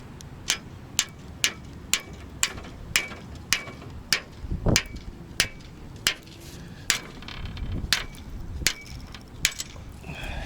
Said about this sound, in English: you're gonna have to gently tap them out with a hammer or press them out